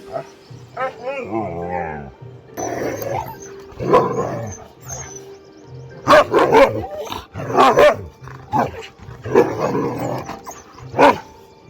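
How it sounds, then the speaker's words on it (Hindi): A Siberian husky plays with an unfamiliar dog on a Himalayan trail, giving several loud, close barks and playful yelps in bursts. People talk over and between the barks. "पहली बार देख रहा हूँ गोश्त को किसी अनजान कुत्ते से खेलते हुए"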